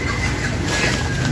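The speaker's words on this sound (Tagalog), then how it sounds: "nagsabong ang manok" Chickens scuffle in a brief fight, a short burst of clucking and flapping against noisy outdoor background.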